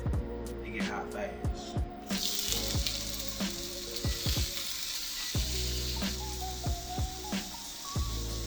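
Seasoned shrimp frying in a hot pan for penne alla vodka, a loud steady close sizzle that runs throughout, with occasional clinks and a faint background voice.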